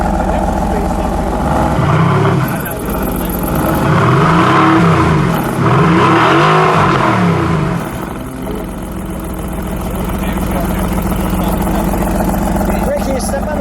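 A black 2020 Mercedes-AMG GT R Pro's V8 revs hard in Race mode, its deep engine note rising and falling through several blips before settling to a rumbling idle, with people talking nearby.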